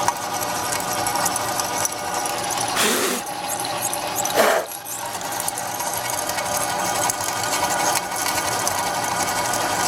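A manual milling machine drives an end mill through a workpiece, cutting out a box-shaped opening for an air vent: a steady, close mechanical whir with two brief louder bursts early on.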